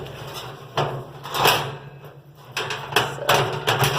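Charcoal trays slide out through the door of a no-weld 55 gallon drum grill, giving several short scraping, clattering metal bursts with brief gaps between, close by and moderately loud.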